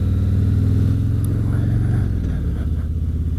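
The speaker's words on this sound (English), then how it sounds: "Watch out for the bus." A large bus rumbles past on the road with a loud, low engine drone that swells and slowly fades over a few seconds, heard up close from a motorcycle rider's helmet.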